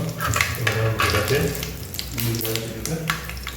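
Onion and cumin sizzle in hot oil for a tangy paruppu kulambu, a loud, dense crackle with frequent spitting pops and stirring.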